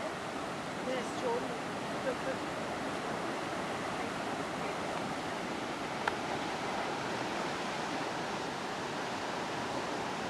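Rushing water of Darebin Creek in torrent, a river loop in flood, fills the scene with a steady, broad roar from start to finish, close and unbroken.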